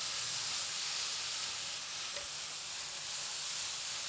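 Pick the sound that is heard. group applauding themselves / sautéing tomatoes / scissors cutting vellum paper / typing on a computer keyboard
sautéing tomatoes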